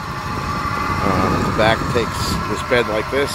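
A 2006 Club Car Carryall 6 long-wheelbase utility vehicle idles close by with a steady engine rumble while someone talks over it.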